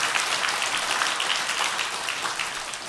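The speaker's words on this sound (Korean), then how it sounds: "하나님께 영광의 박수 올려드립시다" A church congregation applauds during a Sunday sermon, steady dense clapping that holds evenly throughout and eases slightly toward the end.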